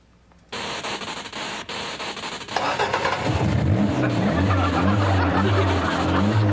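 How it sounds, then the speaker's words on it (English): A car engine being jump-started sounds as a steady mechanical whir that catches and builds into a continuous engine roar with rising revs, loud and close, with a brief chuckle mixed in. "She's gonna jumpstart Dad's car."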